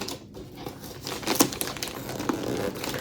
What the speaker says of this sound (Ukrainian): Розпаковую.